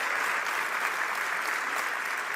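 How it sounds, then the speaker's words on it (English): Dense audience applause for Taylor at a political speech event, a loud, continuous wash of clapping from a large crowd throughout. "can we please give Taylor a huge round of applause for the extraordinary job that she just did"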